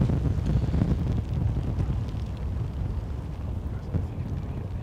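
Storm wind at Gatwick Airport buffets the microphone in loud, continuous gusty roars that rise and fall, with no clear voices above it.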